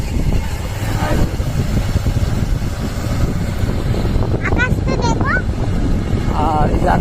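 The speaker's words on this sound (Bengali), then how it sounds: "এই যে আমরা তিনজন বাইকে" A motorbike carrying three riders rumbles along with a constant engine and road roar, while people talk and shout over it.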